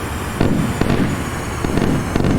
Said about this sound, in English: Yeah, I've got to wait for the missiles to hit.